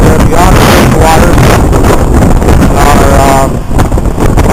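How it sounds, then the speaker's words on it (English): Strong hurricane-driven winds gusting up to 60 mph batter the microphone on the Lake Michigan shore, a loud continuous roar that never lets up for the whole stretch. "right now the winds are sustained 30-35 miles an hour, gusting as high as 60"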